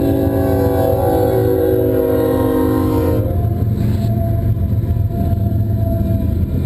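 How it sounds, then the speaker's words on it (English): A long train rolling past nearby, a loud, continuous rumble with a sustained horn-like tone that cuts off partway, leaving the heavy low roar of the wagons. "My goodness, this train is long."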